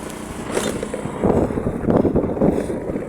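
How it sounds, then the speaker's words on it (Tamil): Vehicle starting up and pulling away, a brief rumbling engine with wind buffeting the microphone, close and loud over a few seconds. "வண்டி ஸ்டார்ட் பண்ணியாச்சு, போகலாமா?"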